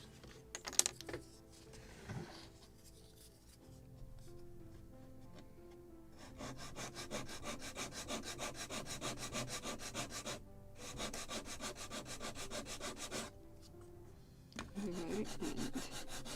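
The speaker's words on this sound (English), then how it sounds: "I need to sand right here." Wood is sanded on a Model Shipways kit of the 1776 gunboat Philadelphia, with steady, close back-and-forth rasping strokes that run in long stretches with short pauses between them and no talking.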